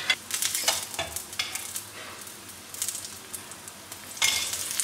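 A lachha paratha cooking in a pan with ghee: a soft steady sizzle with repeated scraping and stirring noises, nearby and moderately quiet, with no voices.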